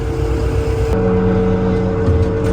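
A forklift engine idles steadily and loud and close while boards on a pallet are loaded into a box truck, a constant low motor hum with a brief shift in tone partway through.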